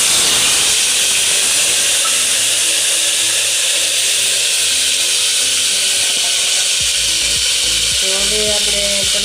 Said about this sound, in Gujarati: તો હવે આપણે ગ્રેવી એડ કરશું